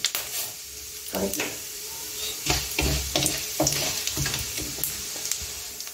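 Whole spices, including cinnamon, cloves, fennel and pepper, sizzle in hot oil in a pan for chicken chukka, a steady close hiss broken by the scrape and clink of repeated stirring.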